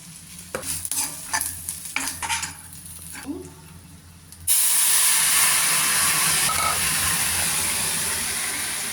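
A few sharp knocks and clatters in a wok give way to a sudden loud, steady sizzle as bay leaf pieces, turmeric and dried chilli hit hot oil, close and continuous to the end.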